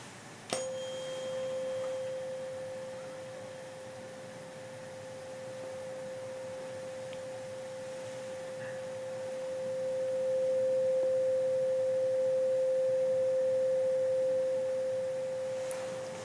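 A steady high-pitched pure sine test tone for an ASMR ear exam and hearing test, held unbroken and quite soft for about fifteen seconds against a faint hiss, with no talking.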